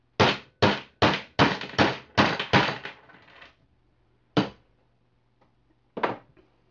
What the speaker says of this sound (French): Et on tape pour emmancher l'étoile.